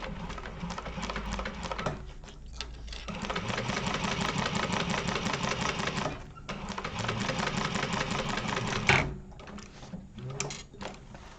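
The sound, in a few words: sewing machine basting the bottom of a Zip-N-Grip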